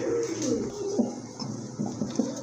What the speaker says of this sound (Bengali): এটা কিন্তু অনেক বড় সাইজের কবুতর